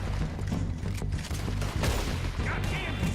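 Repeater rifle shots ring out in the video game Red Dead Redemption 2, a run of loud cracks with mechanical clatter over a busy backdrop and talk mixed in.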